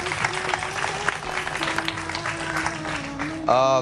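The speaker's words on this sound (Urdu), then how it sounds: "فضیلہ قاضی صاحبہ کے لیے بہت ساری تالیاں" Applause from a studio audience on a Pakistani morning talk show greets a guest, continuous clapping beneath a host speaking, rising in a louder burst at the close.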